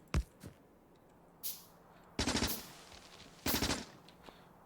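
Turret gunfire in the Factorio video game: one sharp shot, a second short shot, then two rapid bursts of automatic fire separated by about a second, all fairly quiet with no talking.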